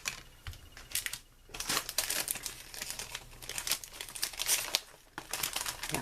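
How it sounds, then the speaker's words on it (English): A rubber stamp pressed repeatedly onto the inside of a paper card, giving crisp crinkling and tapping bursts in an irregular rhythm, close and fairly loud, with no talking. "stamp the inside of the card first with a little saying"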